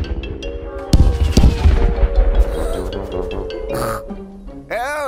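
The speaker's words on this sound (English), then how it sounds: "And now it's time for the big fireworks." Big cartoon fireworks in Peppa Pig bursting with loud booms and crackling bangs over a few seconds, with rising whistles near the end, under a busy mix of music and voices.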